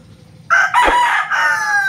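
A breeding rooster crows loudly and close by, one sustained call of about a second and a half that rises sharply out of near silence with no talking.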